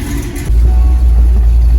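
Engine of a G-body car warming up after a steering shaft swap, a short loud burst of steady mid-range engine roar that jumps in level partway through, close by with no talk.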